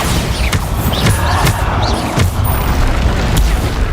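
Bombarda blasting spell explosions in Hogwarts Legacy combat, a series of sharp booming impacts repeating every half second or so over continuous loud battle noise.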